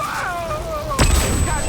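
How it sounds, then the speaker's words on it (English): A flashbang goes off in the Mass Effect 2 shooter, one sudden loud boom with a lingering high ringing tone after it, following a falling whine over background combat noise. "Watch out, flashbang!"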